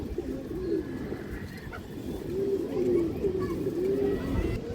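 Pigeons coo in a continuous, low, rolling murmur, close by and steady throughout.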